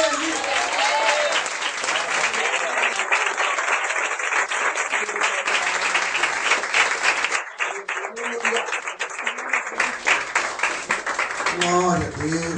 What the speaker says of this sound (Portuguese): A igreja aplauda Ele.